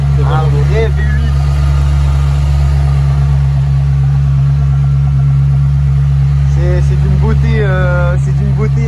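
Ferrari V8 engine idling in a Maserati, a loud, steady deep rumble close by throughout, with someone talking over it at the start and again near the end.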